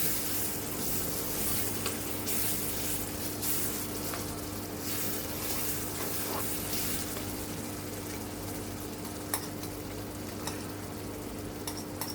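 Shallots and garlic stir-frying for Thai nam prik ong, a steady close sizzle with occasional spatula scrapes and clinks, continuous and fairly quiet.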